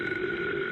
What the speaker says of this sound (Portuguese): Arrotos.